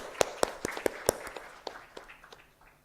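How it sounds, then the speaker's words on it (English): Sparse audience clapping greets a panel at a live-streamed literature festival session, a handful of sharp claps spaced apart and then fading into scattered, quieter claps. "we must go ahead with a round of applause"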